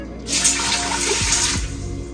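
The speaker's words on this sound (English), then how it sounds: "Then I'm going to add my 2 cups of water in here." Water from a tap pours steadily into a pot of lentils for a lentil and black bean curry, a close, continuous rushing splash with no talking.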